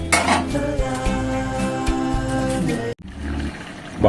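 A lid goes onto a cooking pot on the stove, giving a bright metallic ringing clang that sustains for a few seconds before cutting off, then a dull follow-up rattle.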